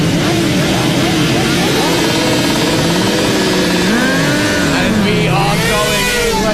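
Racing motorcycles revving together on the grid at Snetterton at the start of a race, loud overlapping engine notes rising and falling, with a commentator's voice over them.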